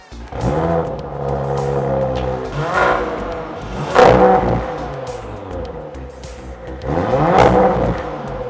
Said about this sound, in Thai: เดี๋ยวเราจะไปดูเสียงเครื่องไปฟังกันนะครับ